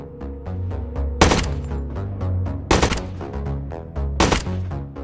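Gunfire in a video game, aimed at targets in a battle at Amerli, comes as three sharp, loud bursts about 1.5 seconds apart, with a steady low musical drone between the shots.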